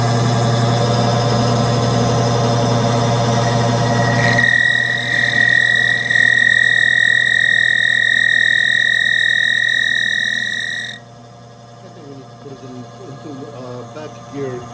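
A metal lathe spinning with its gears engaged, a loud steady mechanical hum and whine that shifts partway through and then drops away as the machine stops, with faint sounds after.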